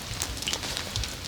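Rain patters softly and steadily on surfaces at a rural farmstead, a faint, even wash of small drops with no voices.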